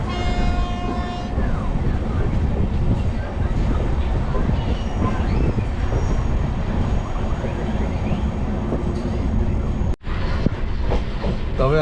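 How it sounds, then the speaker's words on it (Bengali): A train on the run from Kolkata toward Darjeeling rolls along the tracks with a loud, continuous rumble and clickety-clack, brief squeal-like tones at the start, and a sharp jolt near the end. "ট্রেনটা কার্ভ হচ্ছে"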